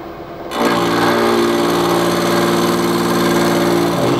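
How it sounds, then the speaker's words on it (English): A three-tipped carbide cutter machines a broken stainless steel stud on an oil housing, grinding loudly and continuously after a short quiet start, with a steady whirring drone. "This cutter has three carbide tips."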